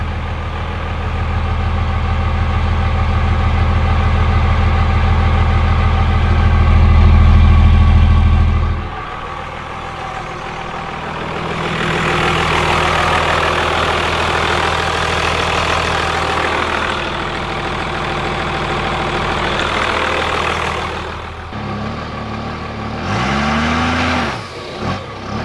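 A truck's diesel engine with no muffler and 275-horsepower injectors idles loudly with a deep, rumbling drone, then shifts and revs a little as the pitch changes.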